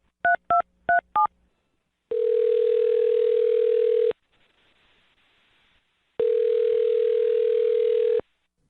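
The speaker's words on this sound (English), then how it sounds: "I'm going to dial his phone number right now and see if we can get him on the phone" Four quick touch-tone dial beeps as a phone number is dialed, then two long steady dial-tone-like hums separated by a short quiet gap, clear and close.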